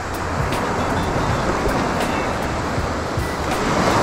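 Surf washes steadily onto a steep shoreline with shells rolling in the water, a constant loud broadband rush of breaking waves with no voices.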